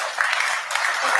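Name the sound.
audience cheering and applauding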